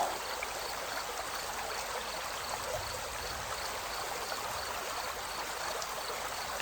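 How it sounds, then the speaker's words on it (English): A small stream babbles beside a forest path near a waterfall, its soft, steady rush of water going on without a break and with no voices. "A tiny stream babbles alongside the path, its gentle voice weaving in and out of the sound"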